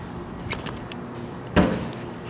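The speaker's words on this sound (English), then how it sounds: "Come around the front, I'll lift up the hood and show you the engine." Hood of a 2011 Mazda CX being lifted at an auto parts yard, heard as faint rattles and then one sharp thunk with a brief metallic clatter, close by and alone.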